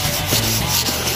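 Continuous rough rubbing of sandpaper on wood, close and fairly loud, with rhythmic back-and-forth strokes and no voices.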